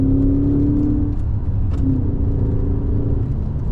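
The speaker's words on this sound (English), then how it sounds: "It upshifts and downshifts very quickly the minute that you touch that paddle shifter." A 2016 Mercedes-Benz S550 Coupe (C217) with Renntech tuning revs under load, a close, steady engine rumble whose pitch drops and resettles as it shifts gears, with no voices.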